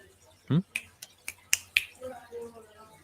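A run of about five crisp, close finger snaps spaced roughly a quarter second apart, with a short voiced sound just before them and quiet speech following.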